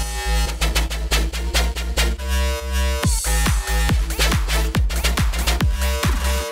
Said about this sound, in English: In the end, your bass sound should sound like this.